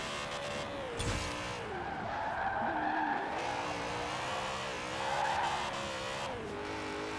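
A BMW M3 GTR fitted with drift suspension and bigger tires slides on a road in Forza Horizon 4, its tires squealing in long drawn-out screeches over a droning engine, with a sharp burst near the start.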